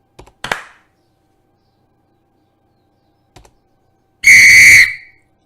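A single sharp, loud whistle blast about half a second long, following a few quiet clicks and taps in an otherwise silent room.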